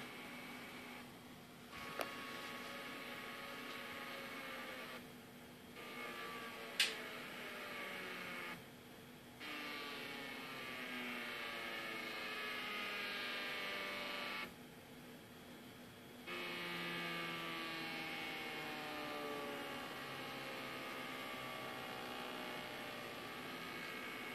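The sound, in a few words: stepper motor driven by Arduino shift registers and L293D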